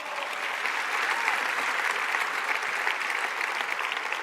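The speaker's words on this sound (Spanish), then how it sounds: "Dale fuerte el aplauso al Señor." Steady, full applause from a large church congregation during a Spanish-language sermon, many hands clapping together at an even, strong level throughout with no talking over it.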